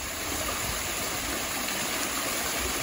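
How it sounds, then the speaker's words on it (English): Steady, full-bodied rush of falling water from a waterfall at Cerritos Library, loud and continuous throughout with no voices. "Wow, it's a waterfall."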